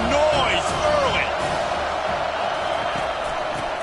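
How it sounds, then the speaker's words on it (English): A stadium crowd in College Football 25 roars steadily with cheers and whoops, a continuous wash of noise under a commentator's voice. "This crowd bringing the energy and noise early."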